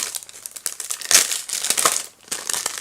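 Craft box packaging being opened, with close, loud paper crinkling and rustling in irregular bursts and a brief pause before the crackling resumes.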